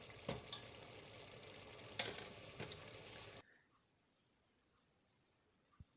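Chicken jalfrezi being stirred in a pan, with a few seconds of scraping and gentle sizzling marked by sharp spoon knocks, then the sound stops abruptly and near silence follows.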